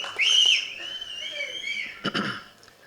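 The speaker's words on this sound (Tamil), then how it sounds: "இவ்வளோ பேருக்கு கை தட்டி விசில் அடித்து கொண்டாடுறீங்க" Crowd whistling shrilly and cheering at a Tamil film audio launch event, loud sustained whistles over general crowd noise with a brief burst of clapping near the end.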